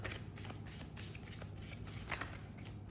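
Tarot cards are shuffled by hand in quick, soft riffling bursts that repeat in an uneven rhythm. The sound is close and quiet, with no one talking.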